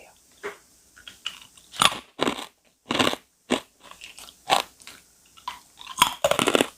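Close, crisp crunching of a wasabi-flavored protein snack being bitten and chewed, a series of sharp separate crunches with brief pauses between them.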